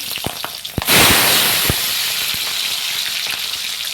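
Onions drop into hot oil that already holds popped mustard seeds and green chillies for an egg gravy, setting off a sudden loud sizzling hiss that stays steady and close, after a few light taps.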